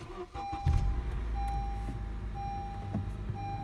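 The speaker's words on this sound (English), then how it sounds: "let me go ahead and start the car" A 2013 Honda Accord Coupe with push-button start cranks and catches, then settles into a steady, close low idle hum.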